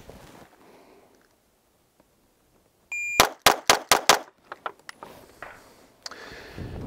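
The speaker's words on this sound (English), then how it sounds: "So now we'll go ahead and move over to the 320. Shooting the left target." A SIG P320 pistol is fired at a range target after a shot-timer beep, six sharp, loud reports in quick, fairly even succession, with faint rustling before and after.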